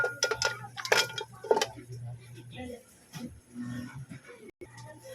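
A metal lid goes onto a cooking pot of sautéed mussels with squash, giving a few bright clinks and clatters close by, mixed in with a person talking.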